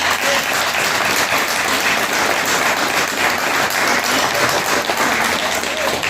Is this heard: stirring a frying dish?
no